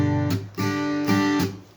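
Someone strums an acoustic guitar in a rhythm and adds a percussive tap on the fourth beat, producing a few ringing chord strokes broken by short muted hits, close up with no voice.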